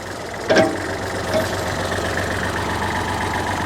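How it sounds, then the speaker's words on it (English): A backhoe's diesel motor running at a steady idle-like drone close by, with a brief clank and a thump early on. "it'll be a silent movie except for the motor running"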